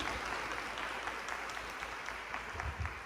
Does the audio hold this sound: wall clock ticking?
no